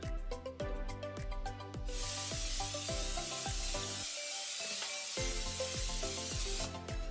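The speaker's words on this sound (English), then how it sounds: "spray some olive oil on it" A continuous hissing spray of olive oil onto chicken tenders for an air fryer lasts several seconds, over a steady backdrop of rhythmic music.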